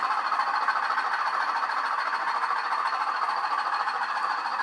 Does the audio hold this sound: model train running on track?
yes